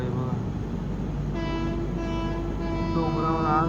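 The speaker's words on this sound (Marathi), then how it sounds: "आता ड्रायव्हरनी तर हॉर्नवर हॉर्न मारतोय" A train horn sounds over and over on a halted passenger train in the hills, its long tonal blasts rising above steady rumble and a little background talk.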